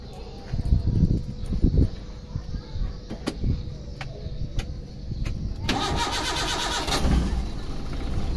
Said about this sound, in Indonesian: Dan kita coba untuk starter.